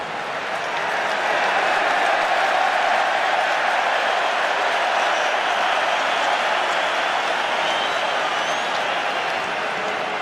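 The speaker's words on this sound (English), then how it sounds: "That's the biggest cheer we've heard from the crowd for a while." Stadium crowd at a Wales versus New Zealand rugby match roars loudly and continuously, a dense, sustained wall of cheering that holds steady for the full ten seconds.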